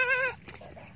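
A goat bleats once, loud and close, a wavering nasal cry lasting about a third of a second, followed by quieter background noise.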